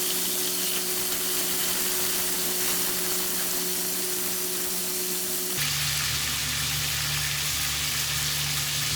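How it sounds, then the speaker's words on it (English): Steady, dense sizzling of chicken frying in hot oil for chicken karahi continues throughout with a low hum, shifting in tone partway through; no talking. "the chicken is sizzling away"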